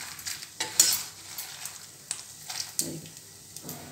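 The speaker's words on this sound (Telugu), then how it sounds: "ఇప్పుడు వేగినాయి మినపప్పు." Urad dal fries in a pan for a dry chilli roselle chutney, a soft sizzle under repeated scraping stirs and light metal clinks, fairly close and without speech.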